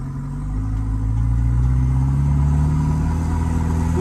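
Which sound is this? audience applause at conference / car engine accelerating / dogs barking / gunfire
car engine accelerating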